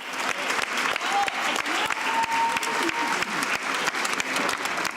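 Applause as an official departs La Moneda palace in Santiago: a crowd clapping steadily and briskly throughout, a dense, fairly close patter with a voice speaking over it.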